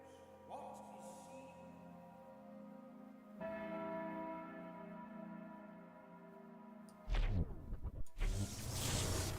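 A ritual bell rings in a video game, a single resonant toll with a long sustaining decay, followed by a whooshing swell and rustling game noises, heard without talk.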